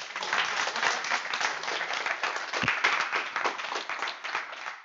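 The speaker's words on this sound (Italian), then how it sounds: "Adesso potete applaudire, ragazzi." After a programming talk on metaprogramming with JavaParser, a small audience applauds with distinct, closely spaced hand claps, lively and fairly near, holding steady for several seconds with one brief thump partway through.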